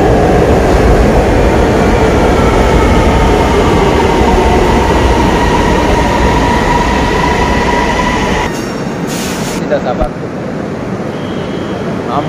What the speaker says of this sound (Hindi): हम और ट्रेन के मज़े लेने आए हुए हैं